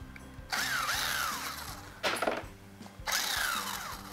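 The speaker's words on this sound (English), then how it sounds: "Let's pull the bolts out of our tensioner and our chain guide for our crank to idler sprocket." A hand ratchet clicks rapidly in three bursts while loosening timing chain tensioner and chain guide bolts on a Chrysler Pentastar engine, close and distinct against a quiet workshop background.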